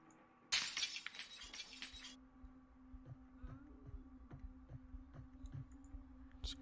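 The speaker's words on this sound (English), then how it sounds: "Alright, let's remove this broken glass." Broken window glass being knocked out in the video game Project Zomboid: a loud, crunching shatter of glass lasts about a second and a half, then gives way to soft, scattered clicks and taps.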